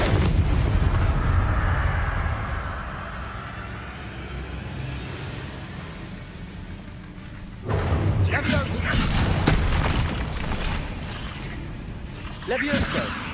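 In the Hogwarts Legacy video game, Confringo spell blasts erupt in loud booming explosions over a rumbling background, with a surge midway and another burst near the end; a voice speaks during the action.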